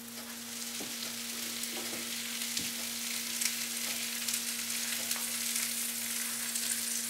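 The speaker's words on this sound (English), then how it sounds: "And my second sandwich is going on the grill." A buttered grilled cheese sandwich fries on a hot grill, producing a continuous close hiss and crackle with a few faint knocks, over a steady low electrical hum and with no talking.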